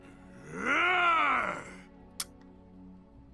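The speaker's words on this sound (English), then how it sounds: "Ooh, low menacing growl." A low, menacing growl from a dog in the video game Dragon Age Origins, one sustained moaning swell that rises and falls over about a second, followed by a brief faint click.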